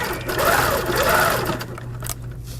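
A sewing machine runs nearby, stitching a quilt row in quick bursts, its motor whirring and rising and falling in pitch before slowing and stopping near the end.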